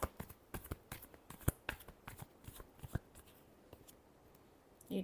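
Tarot cards are shuffled by hand in a quiet room: a close, brisk run of crisp flicks and riffles with uneven rhythm, thinning out toward the end, no talking.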